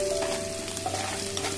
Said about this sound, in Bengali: আমার মরিচ পেঁয়াজগুলো ভাজা হয়ে গেছে